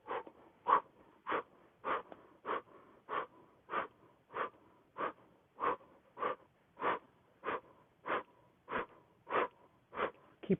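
Rhythmic, forceful warrior breathing exercise breaths repeat steadily about every 0.6 seconds, short huffing exhalations through the nose or mouth, close and moderately loud, sustained evenly without pause.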